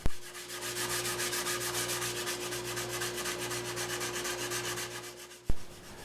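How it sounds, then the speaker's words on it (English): Wood for an electric violin being hand-sanded with sandpaper, a steady rhythmic scratchy rubbing that continues close and alone before a sharp knock near the end. "My hand sanding strategy is basically the same as it always is"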